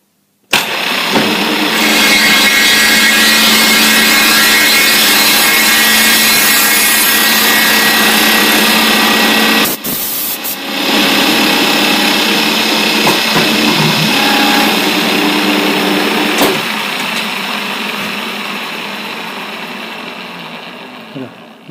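A router bit cuts a wooden tenon for a pergola, a steady loud high whine with a brief dip about midway before resuming and slowly tapering off.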